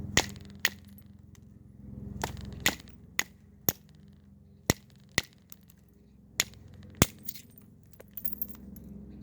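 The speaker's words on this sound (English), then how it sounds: "Crack it off the antler." Sharp stone spalls cracking off under an antler billet while flintknapping small preforms, about a dozen crisp, hard clicks spaced irregularly, close and fairly loud over a low background hum.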